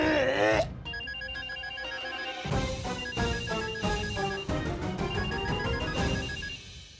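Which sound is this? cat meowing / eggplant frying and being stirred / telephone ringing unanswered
telephone ringing unanswered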